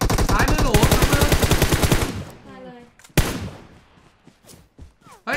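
Rapid automatic gunfire from PUBG Mobile bursts loudly for about two seconds, then a single sharp shot and scattered fainter shots follow, with chattering game effects between them.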